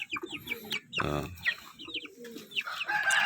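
Close KUB laying hens, village chickens crossed with a larger breed, cluck and chatter continuously, with one louder, fuller squawk near the start and steady bird calls throughout.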